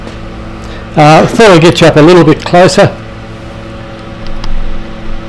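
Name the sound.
fan running in background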